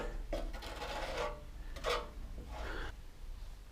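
Hand rubbing-down of ride-on mower bodywork after resin repair, faint abrasive scrubbing strokes in several separate passes, quiet and close with no talk.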